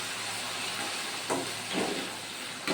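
Tomatoes hiss and sizzle as they drop into hot masala, a steady loud frying hiss with two brief swells as more goes into the pan.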